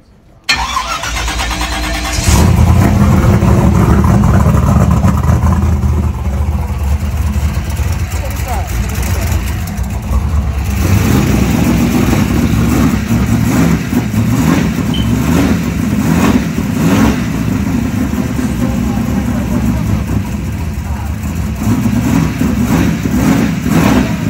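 A one-of-one right-hand-drive convertible box Chevy cranks and fires, then revs loudly and close for over twenty seconds, its engine note rising and falling while people talk over it.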